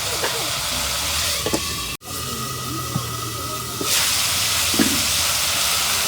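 Dried fish fries in a pan for a taro curry, giving a steady hiss with a few small clinks, briefly cut off and then returning louder and sizzling more strongly.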